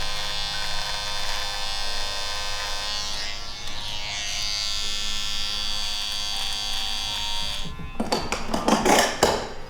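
An electric trimmer cutting a beard, a steady close buzzing hum that runs continuously, then changes to choppier, uneven contact sounds near the end.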